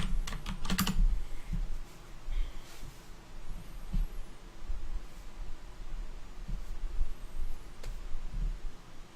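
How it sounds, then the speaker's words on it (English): Fast typing on a mechanical computer keyboard, steady clicking keystrokes with a louder burst at the start, close up over a faint background hum. "Y'all can hear my Thunder keyboard."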